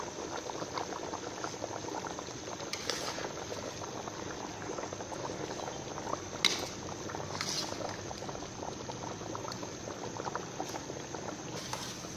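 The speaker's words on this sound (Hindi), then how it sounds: "पानी हमारा बॉयल हो चुका है।" Steady bubbling and popping of water at a rolling boil in a pot, close and continuous, with a few brief louder clicks along the way.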